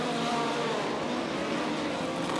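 A single-seater race car roaring along a track, a loud continuous engine drone with broadband road and wind noise, close and steady for a couple of seconds without voices.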